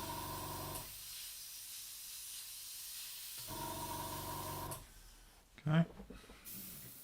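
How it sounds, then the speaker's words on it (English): Airbrush test-spraying very thin paint at low pressure, soft steady hissing bursts separated by pauses, with a short spoken word and a clack near the end. "Put a little bit of this very thin paint. Let's do another test paint spray."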